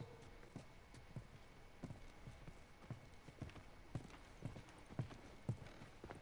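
Faint, steady clip-clop of horse hooves walking at an even pace in the video game The Last of Us Remastered, distant and soft beneath a low background hum.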